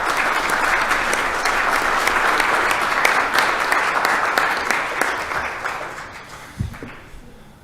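A Senate appropriations hearing room fills with sustained, dense applause from a crowd, steady and loud for several seconds before tapering off near the end.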